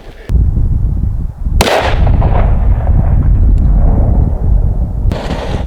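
A rifle fires a 5.56 NATO green tip round during an outdoor penetration test, with one sharp loud crack, then a long rolling echo and a second report trailing away.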